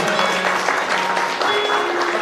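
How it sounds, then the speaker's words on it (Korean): Wedding guests at a Vietnamese-Korean international marriage ceremony applaud the bride's father, a dense, continuous round of clapping with faint voices mixed in. "우리 아버님에게도 큰 박수를 보내주시기 바라겠습니다"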